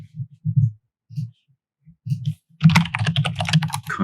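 Computer keyboard typing in close, quick clusters of keystrokes with short pauses between, followed by a voice talking over continued typing near the end.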